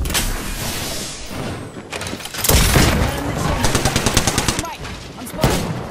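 Rapid automatic gunfire in the battle royale game Apex Legends, with sharp repeated shots rattling in quick bursts that peak in a dense volley midway, amid game noise and mechanical clatter.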